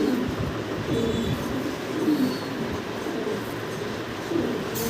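Fancy pigeons, including black Danish pigeons, coo softly in a loft among a steady rustling, rumbling background, the low coos recurring several times at moderate distance.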